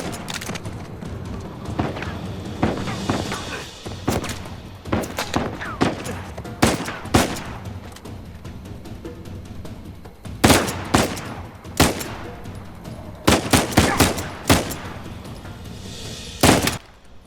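Gunfire in Uncharted 4: A Thief's End, heard as loud, sharp shots in irregular bursts over about seventeen seconds, with quieter gaps of ambient game sound between the volleys.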